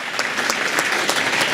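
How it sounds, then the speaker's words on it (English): An audience at a diversity and inclusion awards ceremony breaks into a round of applause, dense hand clapping close and loud, with no talking over it. "Give yourselves a round of applause"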